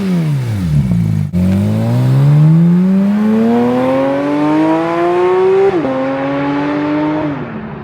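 A Corvette Z06 sports car engine revs hard and close, rising in pitch in long sweeps with a sharp gear shift drop, loud and alone with no voices.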